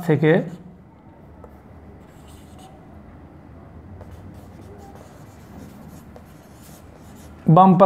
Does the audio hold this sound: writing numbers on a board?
yes